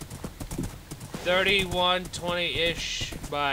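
Horse hooves clip-clop in a DayZ game session, a steady galloping rhythm under loud, frequent talk from several players.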